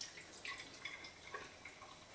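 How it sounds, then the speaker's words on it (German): Water drained off salted cucumbers trickles and drips in a thin, uneven stream, faint and close with no voices. "Hier hat sich also wirklich viel Wasser gebildet. Das schütten wir jetzt mal eben ab."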